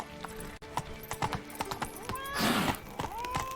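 Horse hooves clip-clopping at a steady pace in The Witcher 3, close and distinct, with a horse's snort or whinny rising near the end.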